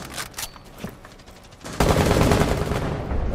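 Gunfire in Rainbow Six Siege: a few scattered shots early, then a sudden loud burst of rapid fire that holds to the end, close and dominant with no voices over it.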